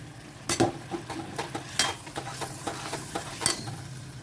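Bay leaf and green peas hit a hot pan, giving a close sizzle broken by sharp clinks and scrapes of a utensil against the pan at irregular intervals.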